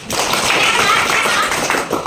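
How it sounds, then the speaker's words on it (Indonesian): A burst of hand clapping from several people, steady and fairly loud, filling the whole moment. "tepuk tangan dulu."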